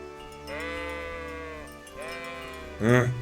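Sheep in the video game Kingdom Come: Deliverance bleat in drawn-out, wavering cries, two long calls followed by a sharper, louder one, clear and close.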